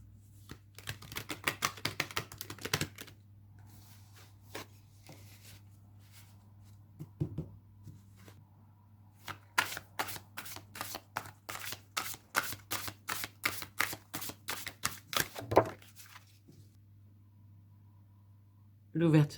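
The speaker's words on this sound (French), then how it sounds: "Je vais tirer une carte dans l'oracle des messages de l'âme." Cards riffled and shuffled from a soul messages oracle deck, with soft flicks and then a long run of rapid crisp clicks near the mic, a person talking quietly at times over a steady low hum.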